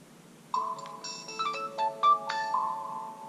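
A Gigaset DX800A DECT cordless handset plays its power-on melody, a clear sequence of bright electronic chime tones rising and shifting in pitch, close and alone over faint background hiss.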